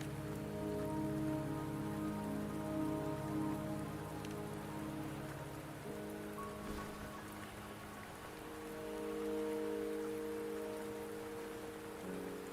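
Steady rain patters continuously in a Wuthering Waves game scene, soft and even throughout with a low ambient musical drone underneath and no speech.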